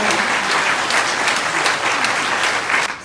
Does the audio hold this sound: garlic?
no